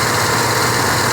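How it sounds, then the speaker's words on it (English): An engine with a knocking fault at startup, running loud and close with a steady rough churning and a dense mechanical clatter that continues without a break for about a second. "You can hear the knocking noise evidently in the beginning of the startup."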